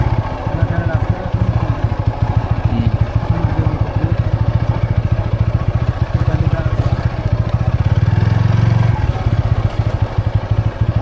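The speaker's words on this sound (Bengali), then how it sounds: "মোটরসাইকেলের শক্তি আছে" A motorcycle engine labors uphill through a tea garden in Fenchuganj, Sylhet, a loud, close, steadily throbbing putter with a brief surge in effort, while people talk over it.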